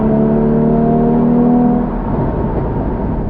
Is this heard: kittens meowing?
no